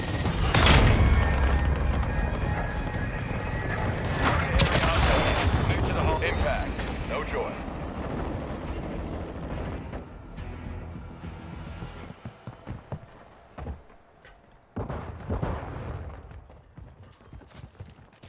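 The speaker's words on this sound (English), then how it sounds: "Cruise missile inbound." Heavy explosions and bursts of gunfire from a cruise missile strike in Call of Duty Modern Warfare II's Hardpoint mode on the Shoothouse map, loudest at the start, then trailing into scattered shots and blasts under game radio chatter.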